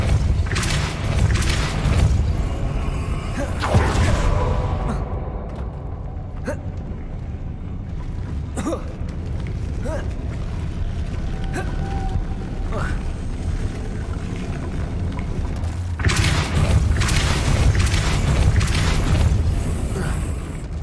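A Depulso spell goes off in the video game Hogwarts Legacy, giving loud booming bursts over a continuous rumbling game soundscape, with strong hits near the start and again toward the end.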